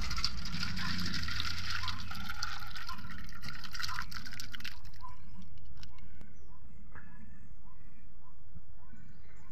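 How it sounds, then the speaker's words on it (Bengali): Thin chicken and potato curry is poured into a big bowl, a splashing, liquid rush for about five seconds, then softer drips and scattered light taps. "এরপরে একটা বড় বাটিতে ঢেলে নেব।"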